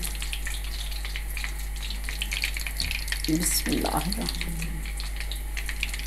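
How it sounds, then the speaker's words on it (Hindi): Onion rings frying in oil over a medium flame, a continuous even sizzle and bubbling close by, with a short clatter of handling partway through. "अब इनको फ्राई करते हैं मीडियम आंच पे"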